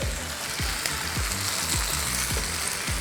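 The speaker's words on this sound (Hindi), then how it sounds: "ये प्याज धीमी आंच पे पक रहे हैं" Onions frying on a low flame with chili bean paste give a steady, close sizzle, with a few soft scrapes of stirring under it. No one speaks.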